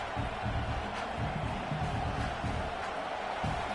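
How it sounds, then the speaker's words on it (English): Steady, dense roar of a large stadium crowd in an NCAA college football video game, a constant wash of cheering and chatter with no single voice standing out. "This crowd bringing the energy and noise early."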